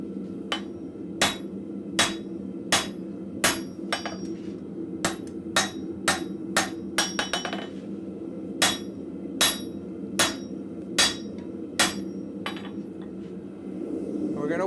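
A blacksmith hammers steel at the forge, sharp ringing blows in an uneven rhythm, some quick doubles, over a steady low hum of the forge, close and clear.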